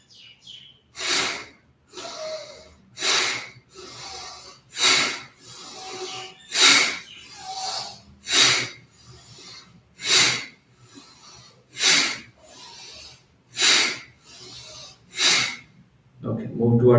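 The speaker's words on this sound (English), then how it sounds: "First step is inhalation, and second step is exhalation by nose forcefully" Forceful exhalations pushed through the nose during a morning yoga breathing exercise, a dozen sharp hissing bursts at a steady rhythm about every second and a half, close and loud, with quieter inhales between.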